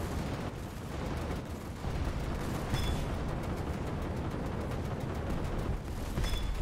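Sustained gunfire from the PG 02 Japanese warship in War Thunder naval battle, a dense, rolling volley of shots and booms that continues without letup, loud and close.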